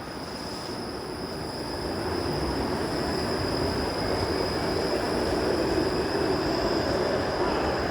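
A Toronto streetcar rolls past nearby on its rails, a broad rumbling roar that swells after the first couple of seconds and holds steady, with a faint high whine above it and no talk.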